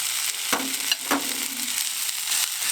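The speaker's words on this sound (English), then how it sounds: "That's sizzling deliciousness right there." Shredded hash browns sizzle steadily in a pan of melted butter and grapeseed oil, a loud continuous frying hiss with a couple of brief stirring scrapes, no voices.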